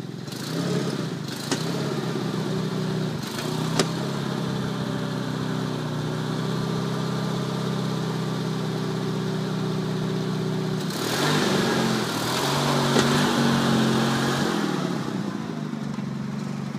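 A Sears Suburban 19.9 garden tractor engine runs steadily at close range during a clutch check, a loud continuous mid-pitched drone with a few clanks early on and a brief rise in revs around the middle.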